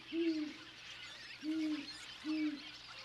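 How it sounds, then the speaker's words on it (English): Three deep, evenly spaced hoots from a great horned owl among desert cliffs, faint and soft against a quiet, still background. "Great horned owls share these cliffs."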